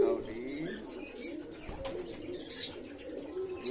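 Domestic pigeons in a loft give soft, low repeated coos close by, with a few faint chirps and a brief rustle near the end.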